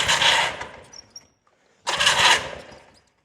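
An outboard boat engine is cranked to start on the water, two loud bursts of turning over separated by a short quiet gap, with no talk over it.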